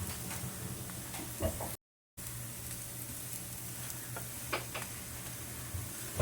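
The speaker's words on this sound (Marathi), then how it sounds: "तूप लावून घ्यायचं हलटी पलटी करून भाजून घ्यायचं" Methi thalipeeth roasting on a pan with ghee makes a soft, continuous sizzle, broken by a brief cut to silence, with a few light ticks and scrapes and no talk.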